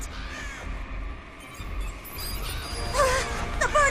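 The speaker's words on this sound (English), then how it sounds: "The bird is back!" Crows caw several times in quick, harsh calls near the end of an animated Bible story scene, over a busy background of music and ambience.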